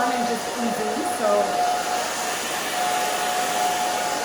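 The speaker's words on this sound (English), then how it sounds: "Just gonna blow dry the back down." A hair dryer blow-drys the back of a short pixie cut, a loud, steady, close whoosh holding level throughout, with a faint voice briefly under it at the start.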